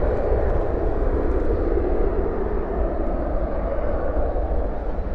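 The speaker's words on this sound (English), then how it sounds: "we'll get the A321 departing in the shot" An Airbus A321 departing DFW airport at night gives a loud, steady jet engine roar that holds throughout, broad and rumbling with no voices over it.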